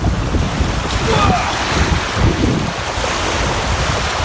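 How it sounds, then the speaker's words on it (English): Warm sea water washes and laps around a jetty at Kingscote in the evening, a steady broadband wash with soft surges, close and fairly loud, with wind noise buffeting the microphone throughout and no talk. "putting up with the water lapping my feet"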